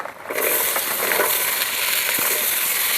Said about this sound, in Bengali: সামান্য অল্প একটু তেল দিয়ে দেবো, শিমগুলো দিয়ে দেবো,